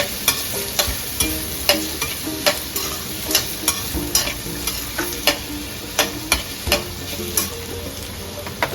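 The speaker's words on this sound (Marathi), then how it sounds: "तेल कडकडीत तापू द्यायचं मोहरी पूर्ण तडतडू द्यायची" Mustard seeds and spices crackle and pop in hot oil for a tempering, with sharp spattering bursts over a steady sizzle and occasional stirring clinks, close by.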